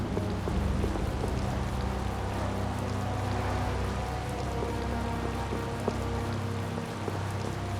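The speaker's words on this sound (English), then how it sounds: "Yeah, it's just raining." Steady rain in a video game pattering on a surface, an even continuous hiss with scattered drops, no voices.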